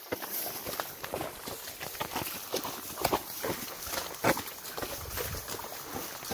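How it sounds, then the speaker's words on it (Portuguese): Pantaneiro horses wading through swamp water in the Pantanal, Brazil, their hooves splashing and sloshing in an uneven, continuous rhythm at moderate distance, with faint background noise and no talk. "Com os nossos cavalos pantaneiros."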